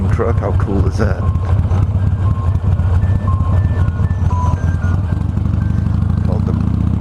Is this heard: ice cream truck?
yes